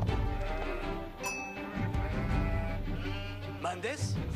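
Sheep bleat in the Age of Empires IV video game, wavering calls rising over a steady bed of game music and ambience, with a higher bleat near the end.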